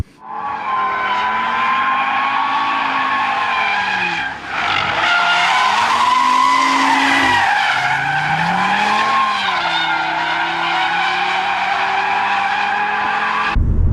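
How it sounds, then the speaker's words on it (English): Audi RS3 with a torque splitter sending power to the rear axle, drifting with long continuous tire squeal and skidding over a loud revving engine, the pitch wavering as the car slides. "That means this car is able to drift."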